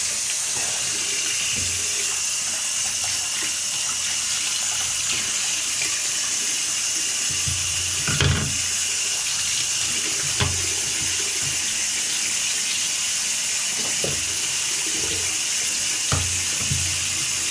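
Tap water runs steadily from a faucet into a sink while someone washes their hair, a continuous close splashing stream with a few brief louder splashes and knocks.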